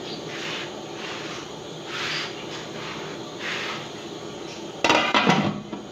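A lid clatters onto a pot of potatoes and tomatoes cooking for biryani, a sharp cluster of metallic clinks near the end after a quiet stretch of soft kitchen background.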